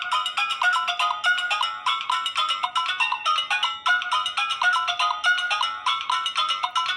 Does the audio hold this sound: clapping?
no